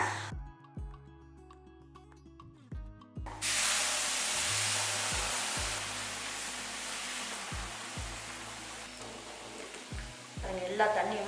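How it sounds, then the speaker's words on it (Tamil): Water boils vigorously in a pan on a stove, a loud rushing hiss that swells in after a few seconds of quiet with light knocking and clatter. "இப்போ தண்ணியை நல்லா கொதிக்க ஆரம்பிச்சிருச்சு"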